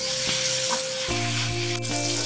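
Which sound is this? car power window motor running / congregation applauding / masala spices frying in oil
masala spices frying in oil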